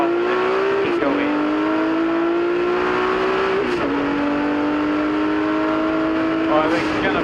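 A 1979 Porsche 935 race car's engine drones loudly from inside the cockpit at a vintage reunion race, holding a steady rising pitch with sharp dips at each gearshift, and a commentator talks over it throughout.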